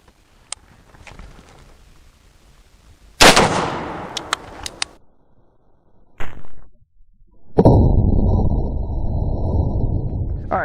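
A .223 Velocity Tactics round is fired into a ballistic gel block, with a sharp loud report and a short ringing tail, a few clicks and another sharp bang, then a loud sustained rushing noise.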